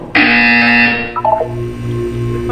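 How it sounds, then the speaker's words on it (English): A loud, harsh electronic buzzer from the video game Portal 2 blares for about a second, then cuts to a few short tones over a lingering hum. "When you hear the buzzer, look down at the floor."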